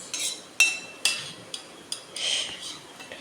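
Cashews roasting in ghee in a pan, stirred with a metal spoon: a soft frying hiss broken by several sharp clinks and taps against the pan at irregular intervals, close by.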